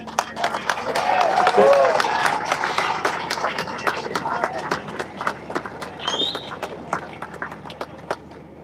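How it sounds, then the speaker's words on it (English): Outdoor applause at a farmers' protest over inheritance tax, scattered sharp claps from a crowd mixed with cheers and a whistle, continuing for several seconds with voices in the background. "Another round of applause for Tim there."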